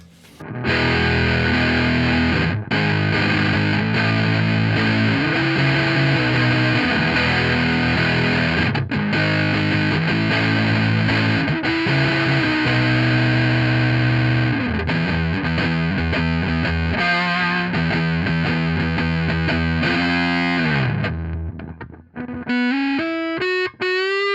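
Heavily distorted electric guitar through a TC Electronic Honey Pot fuzz pedal on the neck pickup, thick warm fuzz tone playing a continuous riff, ending in bright rising synth-like bends; loud and close, no voices.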